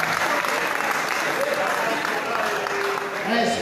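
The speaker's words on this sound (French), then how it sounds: "Est-ce qu'on peut acclamer très fort?" A church congregation applauds loudly and continuously, the dense clapping filling the whole space throughout, while faint voices sit underneath.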